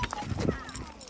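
Horse hooves clip-clop during a spring cattle roundup on a ranch, a quick uneven run of hoof falls close by, mixed with people talking.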